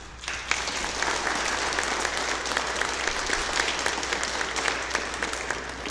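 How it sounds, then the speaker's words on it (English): A church congregation at Faith United in Hamilton gives a round of applause for volunteers and benefactors of a kitchen renovation, dense sustained clapping filling the room evenly from start to finish. "Could we now please give everyone that helped make this project possible a big round of applause?"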